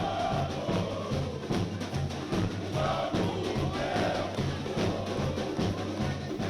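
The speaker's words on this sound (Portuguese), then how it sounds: "A torcida faz a parte dela." Football supporters in the stands cheer and chant as the players arrive, making a steady, rhythmic crowd roar with pulsing beats, heard from within the stadium.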